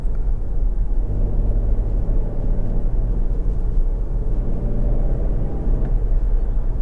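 A car on a driving test with a 30 mph speed limiter set, driven with the accelerator pushed flat to the floor; a steady, loud engine drone and road rumble run throughout without pause.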